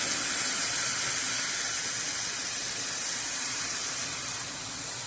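Chicken gizzard and liver hit a hot pan for a desi chicken liver dish, giving a steady, loud, dense sizzle with broadband hiss that holds evenly throughout, with no talking.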